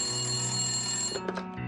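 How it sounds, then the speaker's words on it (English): A telephone rings at home with a steady bright electronic trill, close and clear, cutting off near the end. "he received a phone call"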